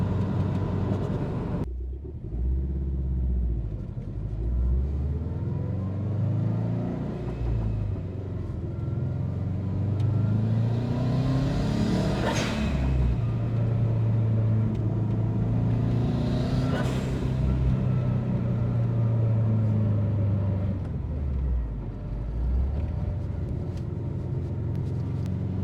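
Subaru STI with an aftermarket turbo of roughly 20G size drives and pulls hard, a steady low engine rumble rising and falling through gears, close and continuous with a faint voice over it.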